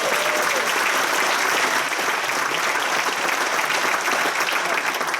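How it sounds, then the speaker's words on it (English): Sustained audience applause at a band's 50th anniversary concert, a thick, even wash of clapping from a large crowd throughout. "Big round of applause."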